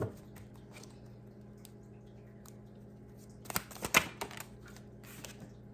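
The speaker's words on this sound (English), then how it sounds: "These cards do not want to shuffle." Quiet room tone, then a short burst of papery riffling and clicking as a stiff deck of tarot cards is shuffled, followed by a few soft taps. No speech.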